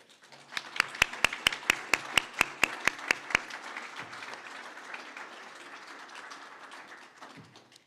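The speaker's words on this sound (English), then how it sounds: "Is it appropriate to give a round of applause at this moment?" An audience at the grand opening ceremony of the Wacheno Welcome Center, Clackamas Community College, bursts into applause, opening with a dozen sharp, evenly spaced claps before settling into softer scattered clapping that slowly dies away.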